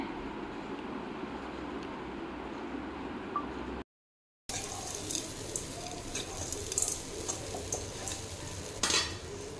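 Ragi idiyappam being stirred and mixed in a pan, giving a continuous soft sizzling rustle with light scraping strokes; a brief silent gap interrupts it midway, and clinks of a utensil follow.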